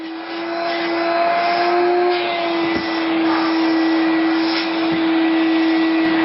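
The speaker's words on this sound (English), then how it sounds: "I'm going to vacuum the rug" A vacuum cleaner runs continuously over a rug, a loud steady motor whine with a strong constant pitch and a couple of brief bumps as it is pushed along.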